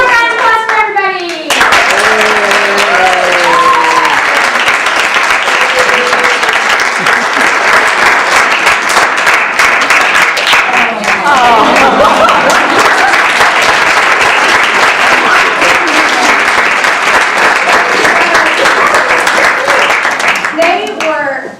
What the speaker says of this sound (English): one round of applause for everybody